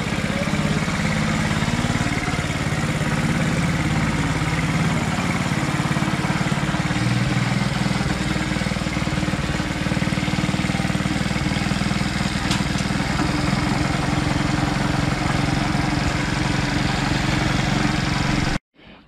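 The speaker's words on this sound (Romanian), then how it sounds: "Cam ăsta e motorul" A 49cc moped engine with new parts idles steadily, a loud, even buzzing drone that runs unbroken for nearly twenty seconds before cutting off abruptly.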